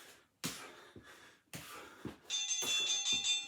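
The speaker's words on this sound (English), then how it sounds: "So when you hear the bell, you're up on your feet." A workout timer bell rings during an exercise class, several sharp metallic dings spaced apart, then a sustained ringing tone near the end, fairly faint.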